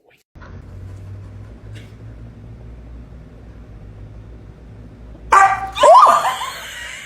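A dog barks twice in sharp, close bursts near the end, after a long quiet stretch of low room hum.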